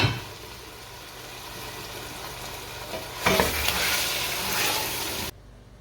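Mutton and masala fry in a pot with a continuous close sizzle that swells louder and brighter partway through, likely as the meat is stirred, before cutting off sharply. No speech is heard.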